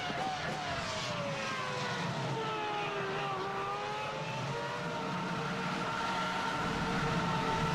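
Race car engine in the iRacing video game at the Red Bull Ring, a steady loud whine with rising and falling pitch as the driver works through the gears, continuous throughout.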